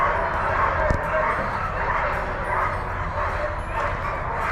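Sled dogs yip and bark in a steady, noisy chorus at the Iditarod Trail Race headquarters in Wasilla, Alaska. The din is broadband and continuous, with a few sharper yelps standing out, and a voice occasionally sounds beneath it.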